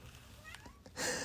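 A cat gives a short, faint meow of rising pitch under a background of indoor noise, followed by a brief burst of hiss-like sound.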